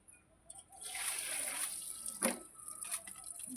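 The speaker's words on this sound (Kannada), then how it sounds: "ನೀರು ಜಾಸ್ತಿ ಬೀಳ್ಬೇಕು" Water is poured during a turmeric bathing ceremony, splashing down in a short gush that peaks and tails off into dribbles, with faint voices around it.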